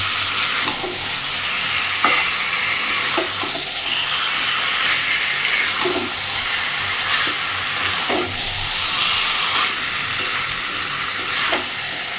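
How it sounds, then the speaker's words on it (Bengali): Chicken and pre-fried potatoes are stir-fried together in a pan for kosha. A loud continuous sizzle fills the scene, while a spatula scrapes at intervals of a couple of seconds, with no voices. "আলু দেওয়ার পরে অন্তত আরও মিনিট 5 এইভাবেই কষতে থাকবে।"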